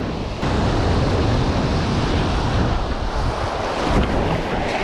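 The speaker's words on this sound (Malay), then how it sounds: "Angin sikit." Wind blows over the water on a boat trip netting shrimp, a loud, steady, broadband rush of air buffeting the microphone along with surf, with no voices.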